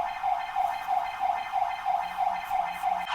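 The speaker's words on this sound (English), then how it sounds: "Fire alarm. Is it a fire alarm?" A fire alarm sounding indoors, a loud repeating electronic warble pulsing rapidly and evenly throughout, with no voices.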